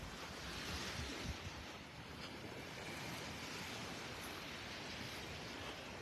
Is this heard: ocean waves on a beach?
yes